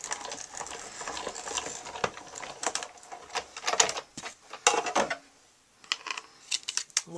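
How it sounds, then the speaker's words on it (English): Close mechanical clatter of a die-cutting machine rolling a card and embossing folder between cutting pads, with rapid ticking and crunching that pauses briefly, then resumes. "I'm going to grab one of my cutting pads and we will run this through"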